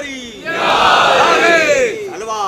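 A large religious gathering answers a Nara-e-Haidari call with a loud, unified chanted response, a swelling mass of voices that rises sharply, holds for about a second and a half, then tapers off, with trailing voices at the end.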